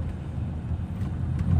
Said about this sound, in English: So I'm driving the car now.